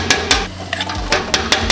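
Drained canned black beans dumped into a pot of smoked rib chili, giving a few separate soft clattering thuds and scrapes against the pot, close and moderately loud.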